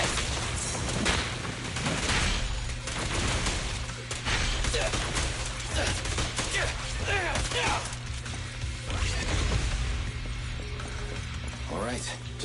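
Dense, continuous mechanical clatter of gunfire and weapon action in the action game Zenless Zone Zero, loud and sustained with rapid ratcheting bursts layered under busy game effects.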